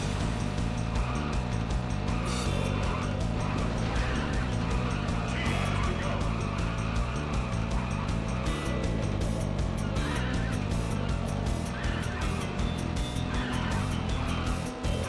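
Racing car engine drone and tire noise from an arcade racing game in the Midway Arcade Treasures 3 collection, a steady loud droning tone with stepping pitch changes and occasional squeals, continuous throughout.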